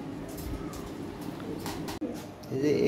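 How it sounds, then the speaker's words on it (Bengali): Lahore Siraji pigeons, a new adult pair, coo softly in a loft, low repeated murmurs running steadily under someone talking nearby. "ভালো কবুতর"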